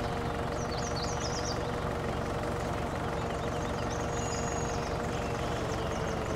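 An even, idling-style rumble comes from a mid-size tractor as it mows lawns in Farming Simulator 19, unbroken and close throughout, with occasional birdsong sitting faintly on top.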